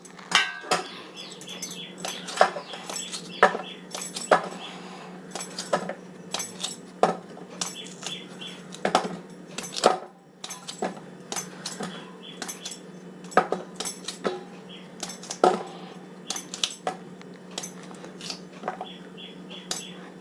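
Knife chopping peeled tapioca (cassava) into pieces on a board for Malabar-style puzhukku, a steady series of sharp close taps and clinks at an irregular rhythm, with no talking.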